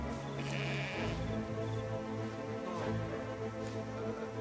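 A lone sheep bleats in the World War I video game Valiant Hearts, a few loud, wavering bleats close up over a steady game background, no speech.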